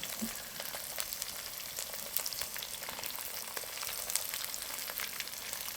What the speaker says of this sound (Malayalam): നമുക്ക് ആ ഇഞ്ചിയും കൂടെ ഒന്നിച്ച് ഇളക്കിയാൽ മതി